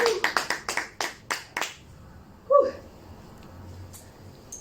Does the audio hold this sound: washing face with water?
no